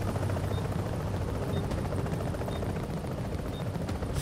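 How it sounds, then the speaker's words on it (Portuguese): A helicopter arrives in The Division's Dark Zone with a steady whirring rotor thump that holds at a constant moderate level, with no talking. "O helicóptero tá chegando."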